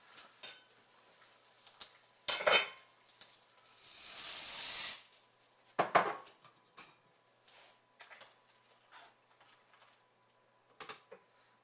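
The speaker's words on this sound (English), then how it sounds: "I have the water boiling, so I'm going to put in the pasta now." A rattling clatter and hissy rush as dry penne pasta drops into a pot of boiling water, framed by a few sharp knocks against the pot's rim; no one speaks.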